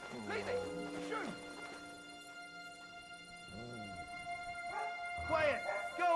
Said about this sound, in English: Get out of here, mutt. No one wants to hear your barking.